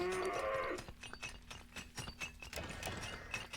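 Cattle mooing in a medieval strategy video game, a low drawn-out moo near the start, then mechanical game sounds and soft clicks continuing beneath at moderate volume.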